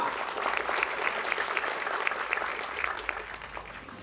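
Audience applause at a Global Aesthetics beauty and arts award show, a sustained wash of many hands clapping at moderate distance, with a voice faintly present underneath.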